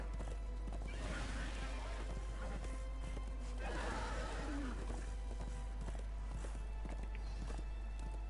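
Horse hooves clip-clop at a walking pace in the Darksiders video game, a steady rhythm of moderate, fairly close hoofbeats with a snort or whinny, under soft ambient noise.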